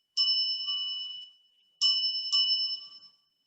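Shamanic bells struck in three separate rings, each a bright sustained ding with layered high overtones that rings out and slowly decays, the second and third strikes close together, near and clear with no talking.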